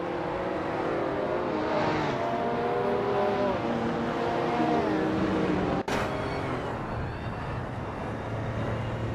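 Race cars, among them a 1984 Ferrari 288 GTO, roar steadily through a race, engine drone holding loud and close for the whole stretch, with a sharp snap just before the end and the din easing slightly afterward.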